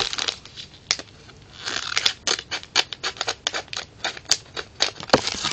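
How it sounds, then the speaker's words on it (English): Scissors snip repeatedly through crinkly packaging, a quick irregular series of sharp close cuts with small rustles between them. "So, let's just take my scissors here."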